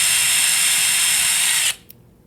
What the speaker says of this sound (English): you're going to drill the anchor pin holes 1/4 inch deep on the other side of the bone